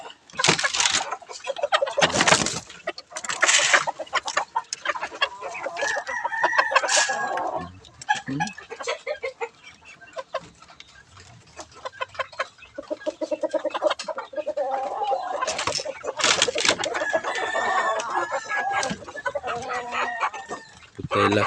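Roosters and chickens crowing and clucking repeatedly near a coop, loud close calls interleaved with scattered squawks and background chatter from the flock.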